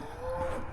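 Cattle on a pasture farm moo in a short, steady call, loud and close, with no talking over it.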